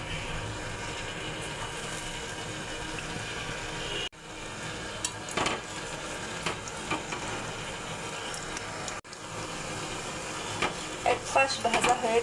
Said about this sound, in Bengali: এখন একটা একটা ভেজে নেব।